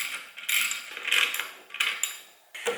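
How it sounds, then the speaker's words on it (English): Metal wrench work on a G37 clutch and flywheel kit, a series of sharp clicking, ratcheting and clanking bursts separated by short pauses, close and fairly quiet. "Let me grab a wrench so I can pull this stuff apart."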